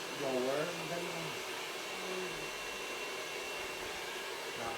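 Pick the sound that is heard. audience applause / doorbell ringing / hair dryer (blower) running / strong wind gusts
hair dryer (blower) running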